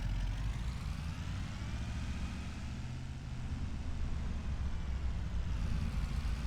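Ford F450 truck driving in Farming Simulator 2025, a steady low engine drone that stays loud and constant throughout, with no talking.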